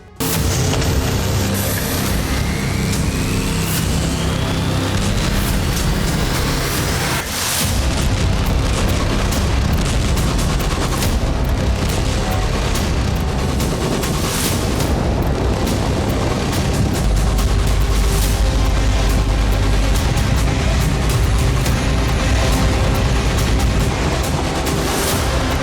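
Explosions in Ukraine war footage roar as continuous heavy booms and rumbling blasts, loud and dense, with a deeper surge near the end and no speech over them.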